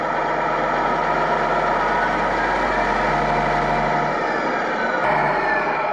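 A custom Tamiya Grand Hauler RC truck drives with a steady electronic engine-sound drone and low rumble that barely changes, then gives a brief click and shift near the end.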